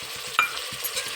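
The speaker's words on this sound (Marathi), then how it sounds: "आता टाकू सोयाबीन मी भिजून घेतली आहे." Soaked soybeans tipped into a pan with sliced tomatoes while cooking masale bhat, giving a short sizzling stir and clatter over a low, steady cooking hiss.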